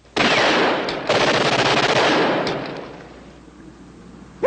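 Machine gun fire in a World War II combat drama, two loud close bursts of rapid shots with a brief gap between them, trailing off into quieter echoes.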